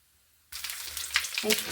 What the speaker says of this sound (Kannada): ಸಾಸಿವೆ ಒಂದೇ ಒಂದು ಪತ್ರೆ ಹಾಕ್ತಿದ್ದೀನಿ